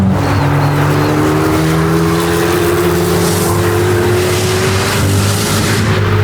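A Chevrolet Corvette C8 ZR1, a 1,000-horsepower twin-turbo supercar, drives hard around an F1 circuit, its engine drone loud and steady with a rising pitch as it accelerates throughout.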